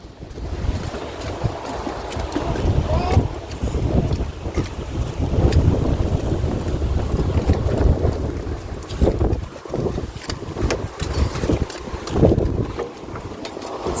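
Strong wind blows outdoors in New Zealand, buffeting the microphone in loud, rushing gusts that rise and fall throughout, with no talking.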